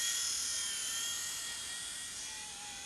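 A red5 4-channel remote control toy helicopter flies close by, its small motor and rotors giving a steady high-pitched whine that fades slightly over a few seconds.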